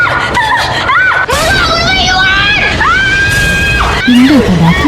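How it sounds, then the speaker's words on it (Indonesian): A frightened person screams in terror in a dramatised horror scene, loud high-pitched cries rising and falling across several bursts over a noisy, busy background. "Ia pun berteriak ketakutan."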